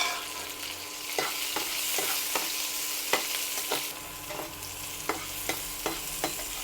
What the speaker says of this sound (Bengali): পেঁয়াজটা দিয়ে হালকা করে ভেজে নেব